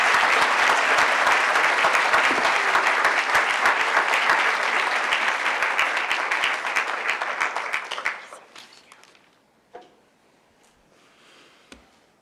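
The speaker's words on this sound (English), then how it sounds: "So everyone, please give him a warm round of applause." An audience at a talk on Palestine narratives claps in a warm, dense round of applause that holds steady for about eight seconds, then fades into a few scattered claps and near quiet.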